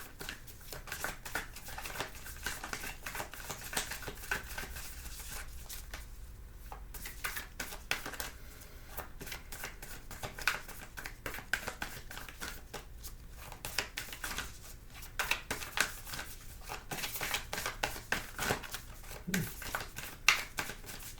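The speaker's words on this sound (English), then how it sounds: "Master Healing just wanted me to shuffle through these cards" A deck of cards is riffled and shuffled over and over, producing dense crackling flutters and soft slaps that run close and unbroken, with no talk heard.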